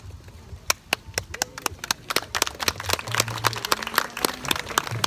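A school harvest play audience claps as a sparse scattering of sharp, separate claps that slowly build into denser applause. The clapping is fairly close and moderately loud, with no talk over it.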